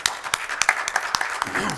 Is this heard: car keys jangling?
no